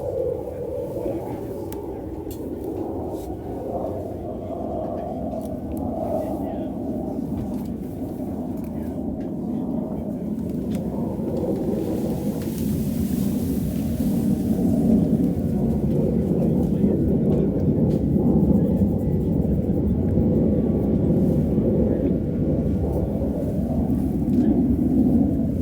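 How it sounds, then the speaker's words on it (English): An aircraft flying over a bowls match at the US Open, a low rumbling drone that slowly swells louder, heard under people talking. "we get a flyover"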